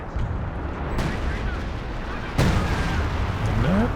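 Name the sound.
Sexton artillery barrage firing in video game Company of Heroes 2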